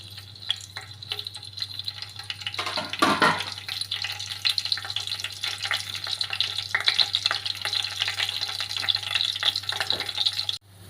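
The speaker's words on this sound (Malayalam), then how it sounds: "അപ്പം രണ്ട് സ്പൂൺ എണ്ണ ഒഴിച്ചു കൊടുക്കാം ഇതിലോട്ട് നമുക്ക് പട്ട ഗ്രാമ്പു ഏലക്ക തക്കോലം എല്ലാം ഇട്ട് കൊടുക്കാവേ" Cinnamon, cloves, cardamom and star anise sizzling in a little hot oil for Kerala beef mappas, a steady close crackle with a louder burst as the spices go in, then constant frying.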